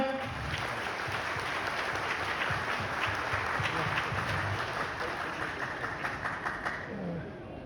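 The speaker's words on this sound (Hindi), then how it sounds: "मैं चाहूंगा एक बार आप सभी लोगों के स्वागत में एक बार जबरदस्त तालियां हो जाएं।" Audience applause at an event held in a Ramada hotel, a steady broad wash of clapping that runs continuously from start to finish and tapers slightly near the end.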